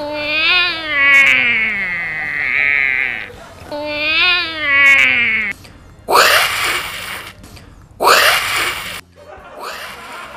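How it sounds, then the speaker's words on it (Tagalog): A cat meows in a series of drawn-out, wavering cries, loud and close, with rhythmic hissing, breathy bursts toward the end. "ang tinig ni Muning"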